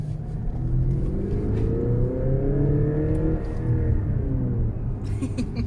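An Audi A7 Stage 2 tuned to 400 hp revs hard from inside the car, engine pitch climbing steadily in a loud, continuous rising roar with a whirring tone, then dropping away at the end.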